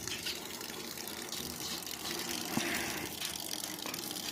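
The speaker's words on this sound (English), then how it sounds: "But we got water. And it's flying." Water gushes from a farm water pipe in a steady, broad rushing hiss. It stays moderately loud and continuous, with a faint thump partway through.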